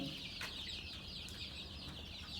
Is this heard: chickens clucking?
yes